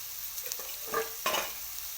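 Bottle gourd pieces fry in a pan with a soft, continuous sizzle, and two brief stirring scrapes stand out near the end, quiet and close.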